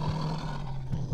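A wolf in a Lord of the Rings video game growls low and steadily, a continuous rumbling snarl that holds at a moderate level for over a second with no talk over it.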